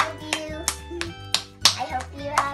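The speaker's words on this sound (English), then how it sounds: "Can we do 65 claps?" A small family group claps in a steady rhythm for a grandad's birthday, with sharp, close hand claps about every third of a second and a voice underneath.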